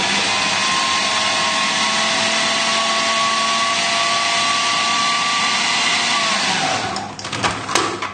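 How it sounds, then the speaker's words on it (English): A food processor blends chicken liver pâté with softened butter, whirring steadily at close range with a constant motor hum, then winds down and stops near the end. "just blend all the ingredients together with the softened butter and all the juice from the livers as well"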